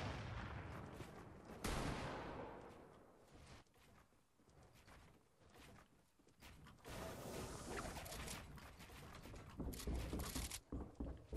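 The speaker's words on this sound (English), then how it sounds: "Oh, they got the egg launcher now." Egg launcher firing in an online shooter video game, a few sharp bursts and whooshing blasts spread over the stretch with quieter gaps between, moderately loud, no talking.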